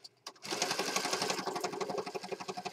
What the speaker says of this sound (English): And I'm going to stitch across here.